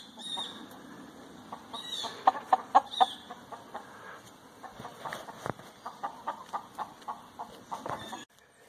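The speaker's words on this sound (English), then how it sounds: "the rooster's getting quite angry with me" An angry rooster and hens cluck faintly nearby in a run of sharp, repeated bursts, with a cluster of louder clucks early on and a steadier series toward the end.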